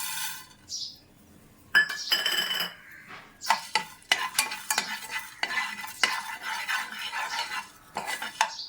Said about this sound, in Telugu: స్టవ్ మనము ధనియాలు పట్ట లవంగాలు జీడిపప్పు మనం వేయించుదాం.